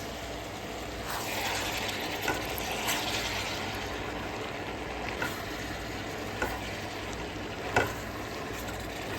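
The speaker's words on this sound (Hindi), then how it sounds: "इसके बाद सोया सॉस और चिली सॉस। अब करते हैं अच्छी तरह से मिक्स।" Soy sauce and chili sauce are stirred into a sizzling pan, a steady moderate frying hiss broken by several sharp clicks and scrapes of a utensil against the pan.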